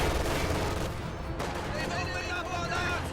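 Gunfire and a machine-gun strafe crackle through a dense battle soundscape in a multiplayer World War II strategy game, continuous and loud, with a caster talking over the top.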